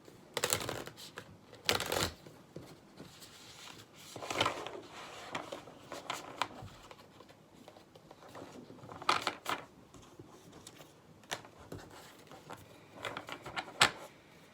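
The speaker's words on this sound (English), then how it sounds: "that was a interesting shuffle" Quiet bursts of tarot card shuffling, several riffling flurries separated by pauses and soft taps and handling noises, close by with no talking.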